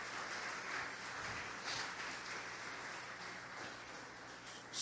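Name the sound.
congregation applause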